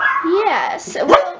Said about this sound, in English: they saw the mailman, and you guys know how that goes. So they were barking a lot.